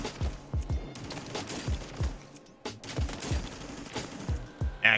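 Rapid automatic gunfire on a Warzone firing range, a steady burst of punchy shots with a short pause midway before firing resumes, loud and close.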